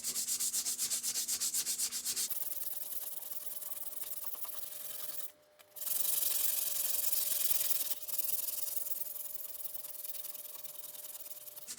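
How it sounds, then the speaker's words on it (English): Sandpaper is rubbed by hand along a wooden hammer handle in steady close strokes, a continuous hissing scrape with a brief pause midway before the sanding resumes. "I'm going to grab sandpaper and get this all cleaned up."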